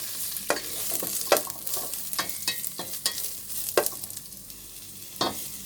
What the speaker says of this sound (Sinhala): පොඩි රන්වන් පාට වෙනකම් වැද ගන්න ඕනේ.